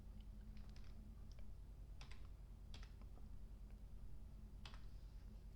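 Keys tapped in short irregular bursts on a computer keyboard as a numeric code is entered, faint and close over a steady low hum, with no voices.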